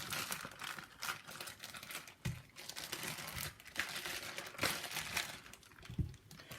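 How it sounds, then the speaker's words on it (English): Plastic bag crinkling and rustling as pork jowl is pulled out, a continuous close crackle with a few sharper crunches and handling bumps. "We're going to take it out of the bag here."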